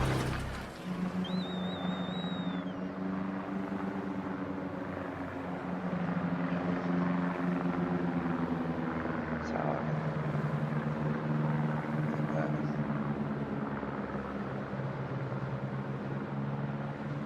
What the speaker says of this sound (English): Spotter airborne.